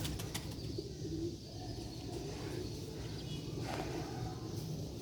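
Fancy pigeons of the Chuhe breed coo softly amid steady outdoor background noise in Sialkot, with an occasional flutter of wings.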